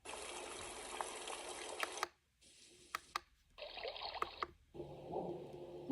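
A YogaSleep Nod sound machine plays a water setting, a steady broadband trickling wash that cuts off and restarts several times as the mode or volume changes, with clicks between segments and no speech.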